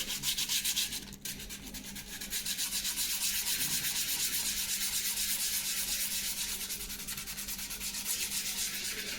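Steady, continuous sanding of a balsa wood model's smooth surface, a soft rhythmic scratching hiss with no voices.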